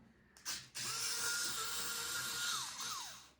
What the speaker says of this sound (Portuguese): eu aperto o botãozinho de baixo para parafusar